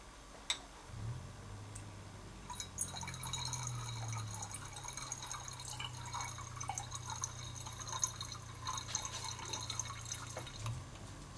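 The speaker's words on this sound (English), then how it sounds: "add about 50 milliliters of toluene into the potassium permanganate solution" Toluene poured into purple potassium permanganate solution during a benzoic acid preparation, a soft steady liquid trickle with scattered drips and light clinks of glassware, faint and close.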